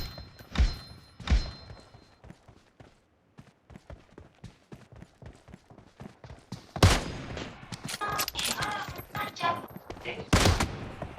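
Gunfire in a shooter video game: sparse sharp shots at first, then a denser, louder fusillade of bursts, with voices talking now and then.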